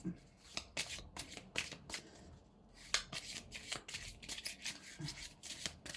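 Tarot-style cards shuffled by hand in quick, close riffling bursts, a soft repeated flutter with brief pauses, heard quietly with a voice talking at times.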